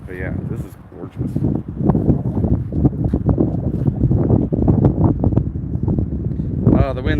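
Heavy wind buffets the microphone with a low, roaring rumble, while a voice is faintly heard near the end.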